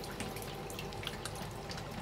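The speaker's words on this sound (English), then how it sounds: "So I've been trying to let the water out, but it's quite bad." Water draining out of a leaking Potterton Gold HE33 combi boiler with a burst inside, a steady close rushing trickle that runs without a break and with no talking.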